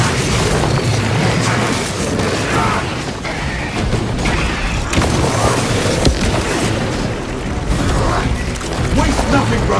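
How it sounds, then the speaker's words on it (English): Grenade explosions and heavy combat rumble through Warhammer 40,000: Space Marine 2, continuous loud booms and crashes with a soldier's voice shouting over the din. "Grenade release!"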